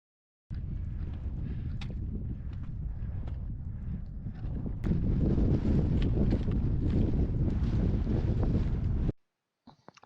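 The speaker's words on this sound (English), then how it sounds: "Bit windy and cold up here." Strong wind on a mountain ridge near the Carn Bhac summit in the Scottish Highlands roars and buffets the microphone continuously, growing louder midway before cutting out suddenly.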